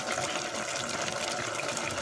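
Cooking oil pours into a pan for pinakbet, a steady, continuous liquid gush, close and unbroken for about two seconds.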